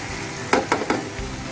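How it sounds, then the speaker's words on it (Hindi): Ground chicken keema fries with ginger and garlic in a pan, a steady close sizzle broken by three quick stirring scrapes. "इसे 5 मिनट तक हम इसे पकाएंगे ताकि ये अच्छी तरह से इसकी स्मेल ख़त्म हो जाए चिकन की अदरक लहसुन में"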